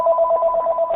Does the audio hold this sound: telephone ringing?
yes